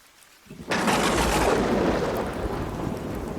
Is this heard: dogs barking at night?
no